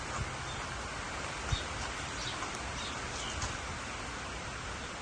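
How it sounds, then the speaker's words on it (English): Birds call faintly and sporadically outdoors beneath a steady, dense hiss of rainfall in a garden, with a few sharper chirps and caws poking through the constant wash of rain. "All the birds are coming back in."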